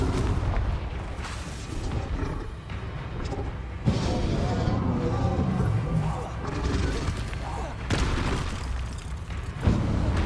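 Confringo spell blasts in the video game Hogwarts Legacy give repeated booming explosions, loud and dense, with crashing debris and battle noise filling the background.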